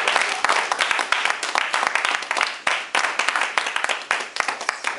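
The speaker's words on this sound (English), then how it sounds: "let's give Brother Gerald another round of applause" Audience applause at a talk on Black love and acts of kindness, dense scattered clapping at steady loudness for the full five seconds with no voices on top.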